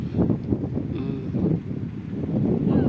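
Gusty beach wind buffets the microphone in uneven surges, with low rumbling bursts rising and falling and a faint voice underneath.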